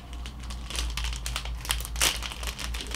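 A plastic bag holding a packed necktie crinkles as it is folded over, a close, busy run of rustling and crackling with a louder burst near the end, under a low steady hum.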